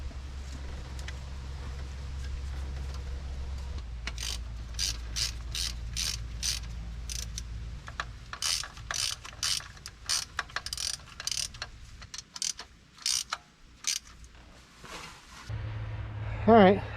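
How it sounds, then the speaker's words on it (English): Ratchet tightening down the carburetor on an old Ford truck, with bursts of rapid metallic clicking strokes close up, interrupted by short pauses, over a faint low background hum. "I'm also going to hook up my fuel line before I get the carburetor tightened down"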